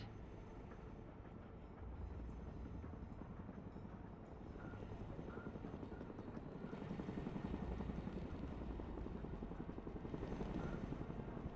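A helicopter in the Broken Arrow war game flies steadily, its rotor chop and engine drone forming a continuous dense roar that swells slightly louder partway through.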